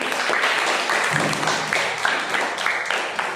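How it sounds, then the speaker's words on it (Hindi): Group of children clapping hands in a classroom number game, a brisk, dense burst of applause lasting a few seconds with some voices mixed in. "तालियां बजाओ।"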